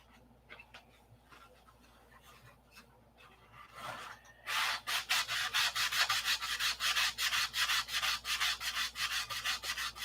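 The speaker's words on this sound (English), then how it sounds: "So we're going to sand this up here." Wood is sanded by hand: faint rubbing at first, then from about halfway a loud, rhythmic series of quick back-and-forth rasping strokes close by.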